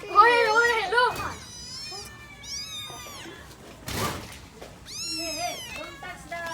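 Several kittens meow in high, wavering cries, a busy burst at the start and more calls later, close by, while children talk and chatter around them.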